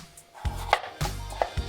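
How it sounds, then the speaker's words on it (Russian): Three sharp knife strokes land on a cutting board in a steady rhythm, a potato being diced into small cubes close by. "который нарезаем вот таким вот небольшим кубиком."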